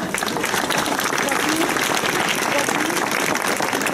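A crowd at a medieval festival in Villena claps after a historical fencing exhibition, producing dense, loud, continuous applause with voices mixed in.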